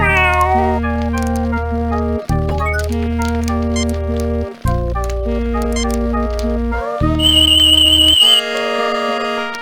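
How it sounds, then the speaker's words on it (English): Synthesized cat meowing and caterwauling in the video game Star Trek Judgement Rites, loud drawn-out electronic yowls with shifting pitch, several phrases separated by short pauses, no voices. "Terran Cat, feeling very self-satisfied."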